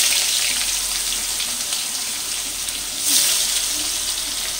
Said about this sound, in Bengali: পনিরগুলো আমি এবার ভেজে নেব